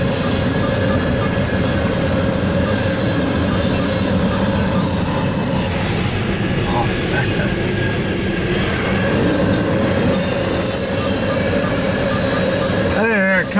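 Freight train boxcars roll steadily past close by, with a continuous loud rumble, metallic rattling and intermittent high wheel squeal throughout.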